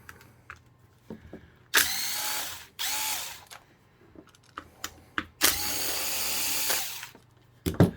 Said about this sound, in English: Do like this little Makita driver.